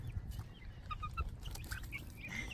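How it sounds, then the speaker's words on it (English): Domestic ducks quacking in a backyard flock kept alongside chickens, several honking calls close by over a steady low background rumble. "We have 3 ducks."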